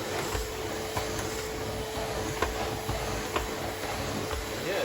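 A 2014 Numatic limited-edition vacuum cleaner running, a steady loud whirring drone with a constant motor whine, close by and continuous throughout, no talk.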